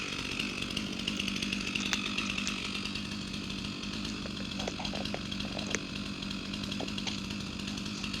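A chainsaw cuts the low face cut into a tree being felled, the engine droning loud and continuous throughout with steady revving.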